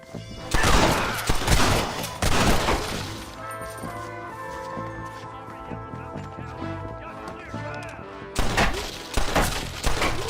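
Gunfire from the game Red Dead Redemption during a bandit shootout: dense bursts of loud, cracking shots, a quieter stretch carrying music and voices, then another volley of rapid shots near the end.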